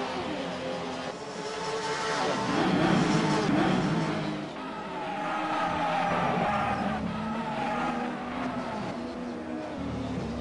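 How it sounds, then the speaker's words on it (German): Race cars during a GT race in Barcelona, engines roaring and tyres squealing as a car locks up under braking, a sustained loud blend of motor noise and skidding. "Oh, König hier mit Verbremser."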